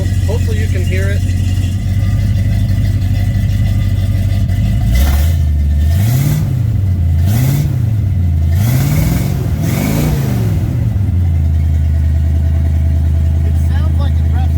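A 1976 Chevy C10 Suburban with a 454 V8 and new Flowmaster mufflers idles with a deep rumble, then revs hard several times in rising and falling swells before settling back to idle. The engine is close and loud.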